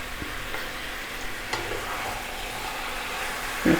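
Chicken pieces with the skin on fry in a pan, giving an even, soft sizzle under higher heat, with a few faint clinks and a louder stirring scrape at the end.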